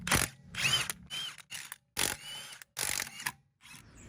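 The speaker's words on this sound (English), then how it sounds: "let's get the wheel off and have a look at why. Which involves the removal of 5 17mm bolts." A hand ratchet loosens the 17mm wheel bolts on the rear wheel of a Mercedes W204 C220 CDI. It gives several short, close bursts of quick clicking, separated by brief pauses.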